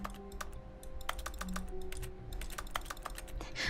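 Keyboard typing sounds in The Stanley Parable: Ultra Deluxe video game, a quick, steady run of clicky keystrokes, close and clear over a faint background hum.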